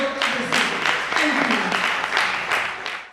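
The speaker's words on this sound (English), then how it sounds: "Let's give them a lot of applause as they go." Audience applause for dancers at a National Diaspora Day celebration, a dense, steady wash of clapping with a few sustained tones under it, lasting about three seconds without a break.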